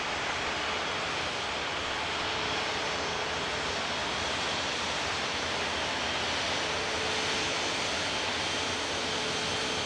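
Jet airliner at Toronto Pearson airport lining up on runway 23, a steady broadband engine roar held at constant level throughout without breaks or voices.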